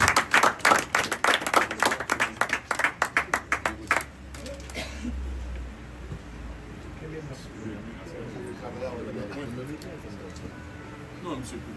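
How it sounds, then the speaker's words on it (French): Audience applause at an International Day of Cooperatives ceremony: a loud burst of many hands clapping for about four seconds, quickly dying away into a quieter room murmur. "Soufflez l'applaudissement, s'il vous plaît."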